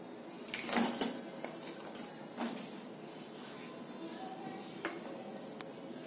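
Jaggery going into milk heating in a wok brings a few faint clinks and scrapes of a utensil against the pan, scattered over a quiet kitchen background.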